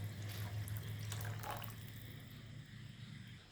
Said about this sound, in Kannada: ನಾನು ಇದ್ರ ಮೇಲ್ಗಡೆ ಇನ್ನೊಂದು ಸ್ವಲ್ಪ ನೀರು ಹಾಕ್ಕೊಳ್ತೇನೆ.